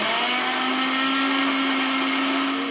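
A blender runs steadily and loudly, chopping onions and green chillies for coriander mint chutney, with a constant whirring drone and no pauses.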